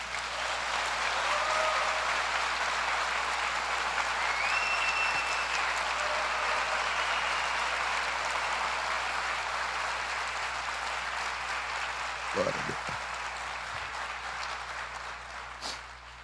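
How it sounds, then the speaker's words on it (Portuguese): Church congregation applauding for Jesus during a service, broad sustained clapping that fills the room for about sixteen seconds, with a few brief shouts above it and a sharp knock near the end as it slowly tapers. "Você pode aplaudir Jesus?"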